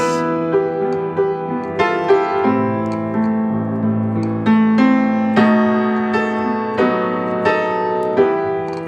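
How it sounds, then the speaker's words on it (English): Sustained piano-like dominant seventh chords played one after another, each struck clearly and left ringing, with no voices. "If I were to do the dominant 7 chord, it would sound like this."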